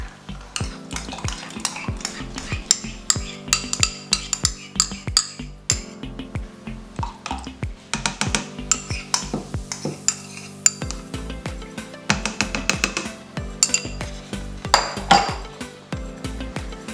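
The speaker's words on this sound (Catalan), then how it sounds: "Aquesta mescla l'afegirem als ous, sucre i oli." Eggs, sugar and oil being mixed with added ingredients for a mona Easter cake batter, a long stretch of quick, close clinks and scrapes of a utensil against a bowl in a busy, steady rhythm.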